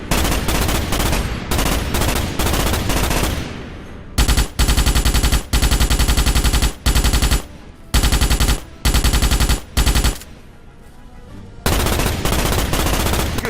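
Loud, sustained automatic gunfire rips through the Starship Troopers video game as bugs are blasted, with long rapid bursts broken by short gaps.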